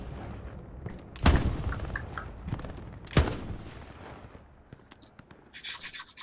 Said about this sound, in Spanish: voy a colocar la 50 y disparo contra la infantería desde aquí